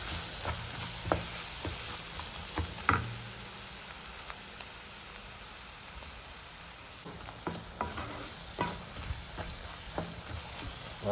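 Masala sautéing over lowered flame in a pan for a vegetarian bonda kara kuzhambu, a steady close sizzle broken by scattered stirring clinks and scrapes of a spoon against the pan, with no talking.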